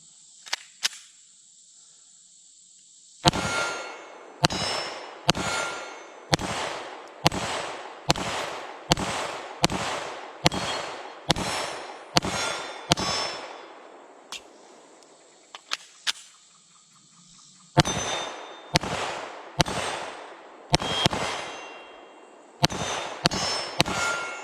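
A Walther PDP Pro X pistol firing 115 grain Blazer Brass ammunition outdoors, with loud, sharp shots in quick strings of around a dozen, broken by short pauses.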